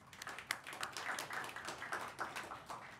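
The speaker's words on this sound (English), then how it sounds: "Let's give them a round of applause." A conference audience gives a brief round of applause, scattered hand claps at modest volume, thin and fairly distant, with no talking over it.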